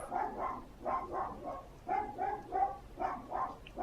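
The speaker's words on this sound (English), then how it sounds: "that is my dog Max." A dog barks in short repeated bursts, grouped in quick runs of two or three with brief pauses between, moderately close and fairly soft, with no talking.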